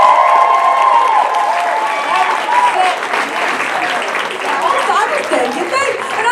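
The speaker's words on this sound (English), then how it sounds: "Another round of applause for Saskia." Loud, steady audience applause with scattered cheers fills an outdoor stand-up comedy show in a park for comedian Saskia, clapping dense and close throughout.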